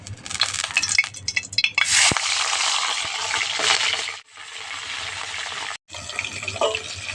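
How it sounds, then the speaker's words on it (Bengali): Pieces of rohu fish frying in mustard oil give a steady, loud broadband sizzle that fades briefly twice, then resumes until the end, with no voices. "মাছ ভাজার জন্য সর্ষের তেল দিয়ে দিচ্ছি। মাছগুলো প্রথমে ভেজে নিচ্ছি।"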